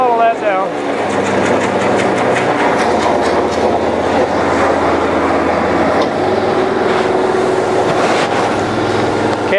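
A cold water jetter's engine running loud and close with a constant mechanical drone and rapid rattling clatter, its pitch shifting slightly as the throttle changes.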